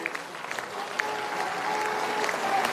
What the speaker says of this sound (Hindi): एक बार खड़े होकर तालियों से स्वागत कीजिए